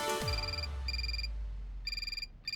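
A telephone rings in a Hindi TV serial, Madam Sir: after a low thud, repeated bright electronic ring bursts sound loud and close, in short rhythmic pairs with brief gaps between them.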